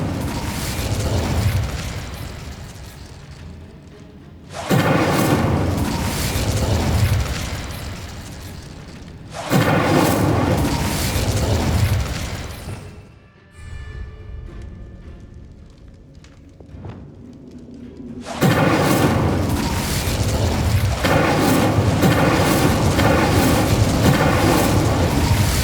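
In Hogwarts Legacy, the Incendio fire spell is cast repeatedly, each cast producing a loud roaring blast of flame that sustains for several seconds, with quieter magical ambience and mechanisms in the gaps, and no talking.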